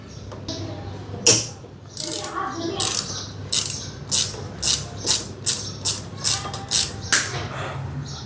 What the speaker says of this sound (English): To open this nut, I am using this star Allen key, using this ratchet set.